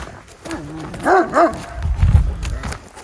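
A dog barks a few times, deep and close, followed by rustling and low thumping movement noise.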